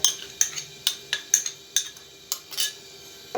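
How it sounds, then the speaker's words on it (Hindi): A spoon taps repeatedly against a bowl while adding ginger garlic paste to a yogurt mixture, roughly eight sharp metallic clinks at an irregular rhythm, close and clear with no talk. "अब इसके अंदर मैं अदरक लहसुन का जो पेस्ट है वो इसमें ऐड कर रहा हूँ"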